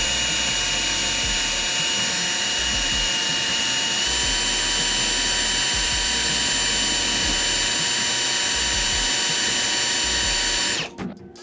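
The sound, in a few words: drill press drilling through a guitar neck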